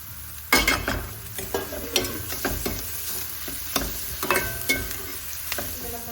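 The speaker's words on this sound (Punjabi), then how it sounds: "ਆਪਾਂ ਇਹਦੇ ਵਿੱਚ ਪਾ ਦਈਏ ਹਰੀ ਮਿਰਚ" Green chilies and onion sizzling in a tempering oil for mustard greens saag, with repeated spoon scrapes and clinks against the pan over a constant close frying hiss.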